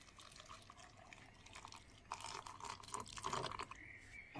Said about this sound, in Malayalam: നമുക്ക് ആവശ്യമുള്ള പാലോ ഒഴിച്ചു കൊടുക്കാം.